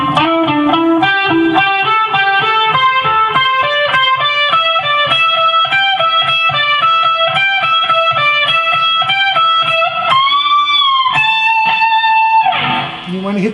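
An electric guitar lick rings out alone: a quick run of clean-toned notes with a string bend up, a release and a pull-off, then a sustained final note.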